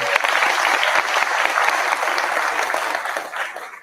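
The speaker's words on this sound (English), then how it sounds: "Can we give a big round of applause to Brett?" An audience at a DC Startup Week session applauds Kava CEO Brett Schulman, a dense steady wash of many hands clapping that fades slightly at the end.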